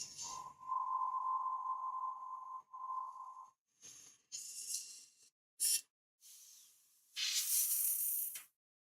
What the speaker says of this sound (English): with this varnish, lately I have a little bit of a problem with it. It always gets stuck inside the airbrush